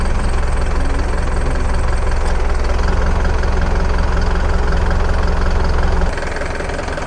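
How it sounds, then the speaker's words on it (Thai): An Isuzu NLR 130-horsepower diesel truck engine idles steadily with a deep, loud rumble and low knocking, then drops slightly in level near the end. "สภาพเครื่องยนต์นะครับ NLR 130แรงม้านะครับ"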